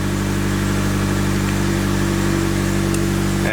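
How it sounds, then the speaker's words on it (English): A 2022 Subaru BRZ idles while warming up after an oil change, a steady, even engine hum with a constant low harmonic tone, heard close and alone. "just let the car warm up so it can cycle through the oil"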